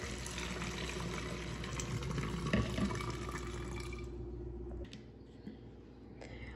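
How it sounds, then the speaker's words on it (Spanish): A cup of water pours into a spray bottle as a steady, close liquid stream for about five seconds, then stops, leaving faint room noise. "una taza de agua"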